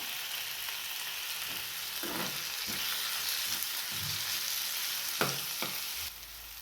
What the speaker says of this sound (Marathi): इकडे आपण कांदा आणि टोमॅटो असे छान प्रकारे भाजून घेत आहोत